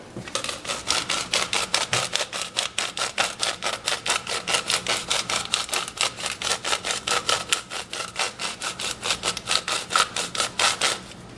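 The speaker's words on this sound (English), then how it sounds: "that's a Italian blend grinder" Hand-cranked grinder of Italian blend spice crushing seasoning over a veggie pizza, making a rapid, steady series of close, crisp gritty ratchet clicks that continue without pause.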